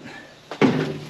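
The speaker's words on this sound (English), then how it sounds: "shut the door" A metal fish smoker door is shut, a short scrape followed by a solid clunk with a brief ringing tail, close and alone.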